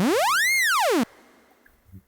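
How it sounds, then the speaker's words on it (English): W&W LFO riser synth preset, in the key of G, sweeps a bright buzzy tone upward then back down in one smooth arc, loud and alone, cutting off abruptly into near silence after about a second. "so we've loaded the preset, and I have one called W&W LFO, sounds like this"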